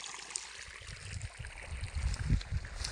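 A modest stream of water from a solar-powered pump, running at low flow, gurgling and splashing steadily and fairly close, with no voices.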